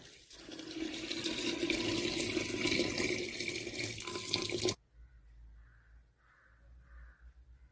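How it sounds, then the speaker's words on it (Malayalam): Boiled and cooled water pours steadily into a jar for Kerala-style pineapple wine, a continuous splashing stream for about five seconds that cuts off abruptly, leaving quiet background with faint crow caws. "തിളപ്പിച്ചാറിയ വെള്ളം ഒഴിച്ച്"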